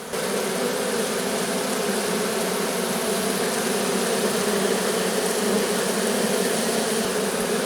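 A dense, steady buzz of a honeybee swarm being settled in front of a hive at an apiary in a meadow, continuous and close with no talk.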